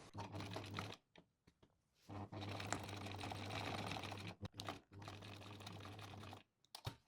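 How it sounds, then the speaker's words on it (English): A sewing machine stitching a fabric pouch closed, running in steady whirring bursts with short pauses between runs and a quick final stitch, close and fairly quiet. "And now I'm just sewing it close like this."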